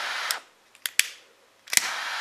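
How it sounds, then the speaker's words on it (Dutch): A cigarette lighter's flip lid opening automatically gives several crisp, close metallic clicks, with short bursts of airy hiss between them. "Het klepje gaat ook automatisch open."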